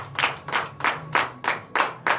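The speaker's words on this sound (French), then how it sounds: "Donnez l'acclamation à notre Seigneur Jésus." A church congregation at a morning prayer service claps in acclamation, a steady rhythmic beat of about seven sharp, evenly spaced claps, moderately close, with no voices over it.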